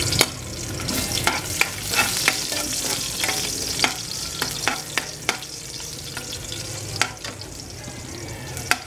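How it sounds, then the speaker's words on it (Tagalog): Garlic sautés in a pan with a continuous sizzle, broken by frequent sharp scraping and tapping of a utensil against the metal as it is stirred, fairly close and without speech. "unahin natin yung bawang. Usual na pagigisa lang."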